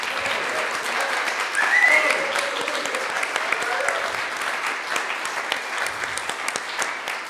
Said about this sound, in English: let's have a big round of applause for our artists this evening.